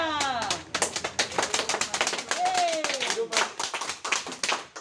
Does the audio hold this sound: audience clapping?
yes